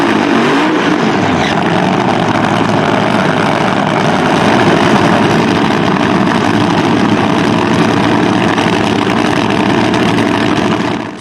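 A Camaro drag racing car idles loud and steady at the starting line of a drag strip, its heavy engine rumbling continuously near the mic as it creeps forward toward the staging beams.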